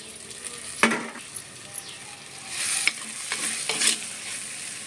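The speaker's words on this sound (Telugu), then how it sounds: "ఇప్పుడు ఈ టమాటా ముక్కల్ని ఇందులో వేసేసి బాగా మగ్గనివ్వాలండి." Tomato pieces cook in a pan, sizzling quietly while a spoon stirs them in a few scraping strokes with light clinks against the metal, close by and without speech.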